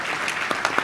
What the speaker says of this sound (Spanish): Un fuerte aplauso aquí a los doctores.